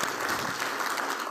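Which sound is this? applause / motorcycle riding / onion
applause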